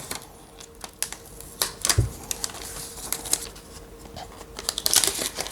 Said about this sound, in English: we'll just peel off the protective paper, and this is paper